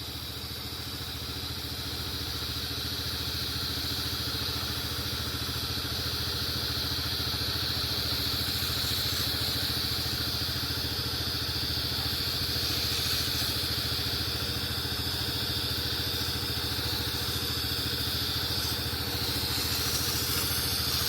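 A gas pressure washer engine runs for roof and house washing, a steady, even mechanical drone that holds throughout with no breaks and no voices.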